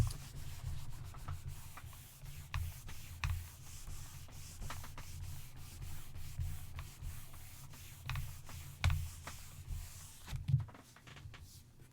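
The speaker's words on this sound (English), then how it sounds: "you're supposed to pat to get layers on your stamp, not just rub it" Ink being patted and rubbed onto a craft stamp, a soft, close, continuous scuffing and rubbing with occasional light taps.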